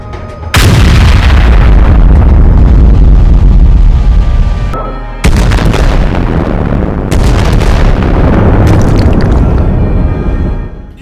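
Loud, sustained tank cannon blasts and explosions from an animated battle between tanks, a dense roar of booms and rumbling blasts broken by a brief gap and a second sharp onset.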